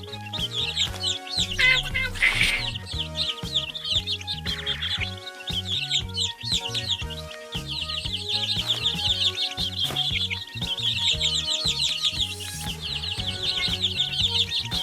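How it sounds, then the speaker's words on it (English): Cartoon chickens cluck and baby birds chirp and tweet continuously in a preschool counting game, a busy chorus of bird calls layered over a bouncy background music track. "Feed the hungry baby birds with some seeds."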